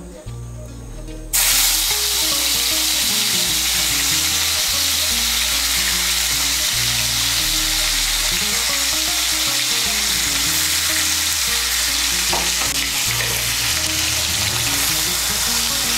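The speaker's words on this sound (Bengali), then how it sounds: "এর মধ্যে আমি পনিরের টুকরোগুলো ভেজে নেব।" Paneer pieces frying in hot oil in a kadai give a loud, steady sizzle and hiss that starts abruptly and continues unbroken, close up, with no voices over it.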